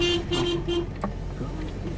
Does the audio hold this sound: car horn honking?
yes